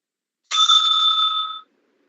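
A timekeeper's bell at an interbatch debate rings once, a single clear metallic ding that rings out for about a second in an otherwise silent room.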